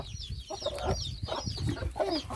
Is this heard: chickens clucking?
yes